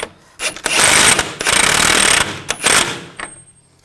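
An axle nut on a 2000-2006 BMW X5 front CV axle is run down with a power tool: loud bursts of rapid mechanical rattling and hammering, separated by brief pauses, up close.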